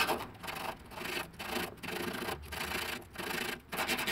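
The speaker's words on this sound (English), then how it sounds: "This rust is a little on the heavier side, so I'm using 100 grit, but you can go lightly." Strokes of 100-grit sandpaper rub heavy rust off metal on a 1999-2004 VW Beetle, a rasping scrape repeated back and forth in a steady rhythm of about seven strokes, close and fairly loud.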